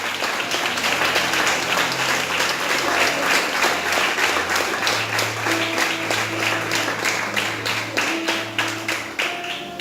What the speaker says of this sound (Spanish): ¿Quién le puede dar un aplauso a Jesús?